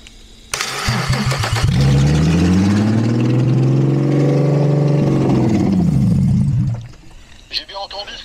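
A Peugeot 206 fitted with a VR6 engine and an open exhaust cranks and catches, then idles with a deep, loud, throbbing roar for several seconds before shutting off; someone speaks briefly afterward.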